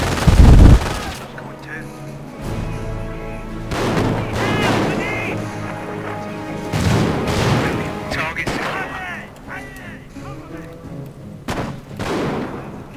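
Gunfire and explosions from a Company of Heroes battle between British and Wehrmacht forces, with a heavy boom at the start followed by a steady rumble of shots and blasts under continuous talk.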